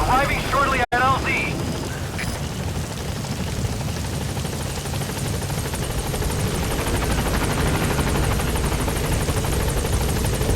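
Helicopter heard arriving at a landing zone in the video game Metal Gear Solid V, a loud continuous rotor roar and engine wash that fills the scene steadily after a brief sharp cut at the start.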